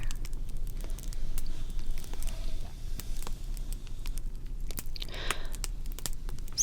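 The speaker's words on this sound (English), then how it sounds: "Listen to the sound of the crackle" A cozy wood fire crackles with scattered sharp pops and ticks over a soft, steady hiss, quiet and close with no talk.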